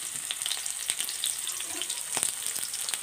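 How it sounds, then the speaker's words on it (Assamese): Onions frying in hot oil in a wok (kerahi), a steady bright sizzle with crackling pops and occasional stirring scrapes, close and continuous without speech. "মই পিঁয়াজখিনি ভাজি লৈছোঁ"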